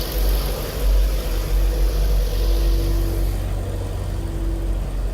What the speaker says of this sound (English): We're going to give it a couple of quick revs, but we're going to have it warmed up for a minute or so.